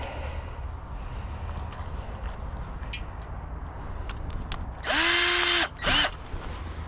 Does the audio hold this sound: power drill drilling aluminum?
yes